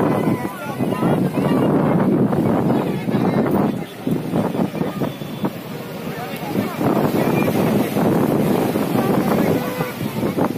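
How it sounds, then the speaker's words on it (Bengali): Sea breeze at a beach, gusting wind buffeting the microphone as a loud, rough rumble with surf-like washes, blowing steadily with a brief dip partway through. "সুন্দর একটা হাওয়া"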